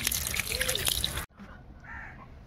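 Water splashes and drips as a chanda fish is rinsed clean for cooking, a busy close trickle that cuts off abruptly midway and leaves faint room noise.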